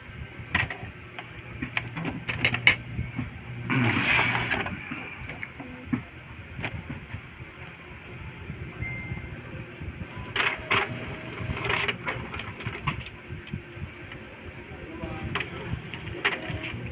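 Epson L3110 inkjet printer running a final test page after a printhead cleaning, with intermittent mechanical whirs, clicks and carriage movements over a quiet room background and no voices.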